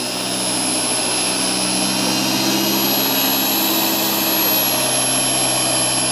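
A car polishing machine runs steadily on a vehicle's paint during a micro-scratch removal treatment at a detailing shop, giving a loud, continuous whirring drone with no break across the whole stretch.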